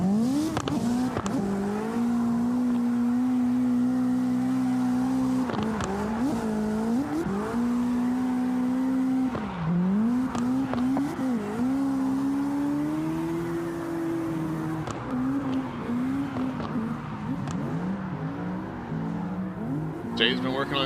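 Drift cars slide through SLIDESTYLE practice at West Coast, engines wailing and bouncing between revs as tires squeal in repeated long slides, heard from a distance with people talking over it.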